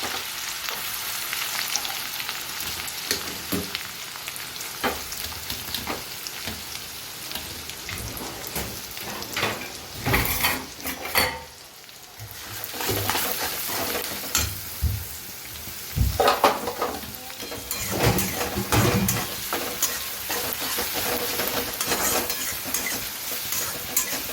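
Ginger, garlic and onion frying in a pan for paneer bhurji, a continuous close sizzle broken by repeated scraping stirs, with a brief lull partway through.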